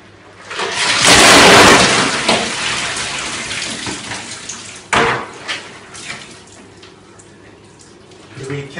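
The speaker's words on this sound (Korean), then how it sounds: "그럼 저도 이제 얼음물 샤워를 하겠습니다." Ice water dumped over a person's head for the Ice Bucket Challenge, a loud broadband splash and pour lasting a couple of seconds, then dripping and splashing that fade, with a few sharp knocks and a later burst.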